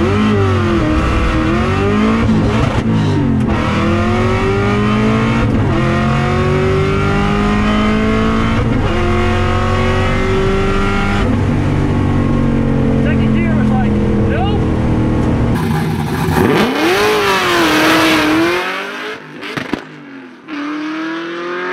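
A drag race car on a strip pulls away loud and close with rising harmonic engine tones climbing in pitch, then a final surge of roar before the sound drops off sharply near the end.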